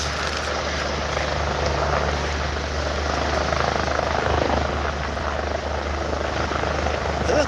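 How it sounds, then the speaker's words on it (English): Helicopter passing overhead makes a steady, loud rotor and engine roar that holds for several seconds without letup, heard alone with no talking. "The helicopters are busy today."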